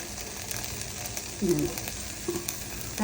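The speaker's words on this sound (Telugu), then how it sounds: "తాలింపు ఆయిల్ వేసుకుని ముందు తర్వాత కరివేపాకు ఎండుమిరపకాయలు" Oil crackles in a pan during tempering for an Andhra gongura prawn curry, with curry leaves and dried red chillies going in; a soft, steady fry with a couple of brief louder pops.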